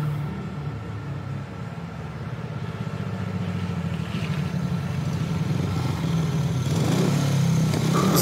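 Speedway motorcycles racing in the video game FIM Speedway 15 at a Finland round, a steady, dense engine drone that builds slightly louder toward the end, continuous with no talk.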